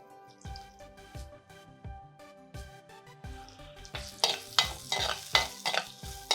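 Onion and green chillies fry in oil in a pan, crackling steadily while a spatula scrapes and taps in a regular rhythm. The sizzle swells louder and brighter toward the end, close up with no talking.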